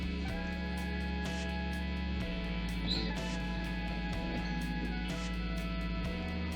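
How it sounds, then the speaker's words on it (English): Electric guitar with a P90 single-coil pickup played through a Behringer pedal, a steady broadband hiss running beneath sustained played notes and chords throughout. "you're gonna hear the single coil is gonna make a lot of hissing noise until I turn that pedal on"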